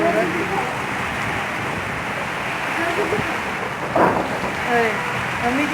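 Heavy rain in Karachi falling as a dense, steady hiss with soft splashes on surfaces throughout, with faint voices in the background.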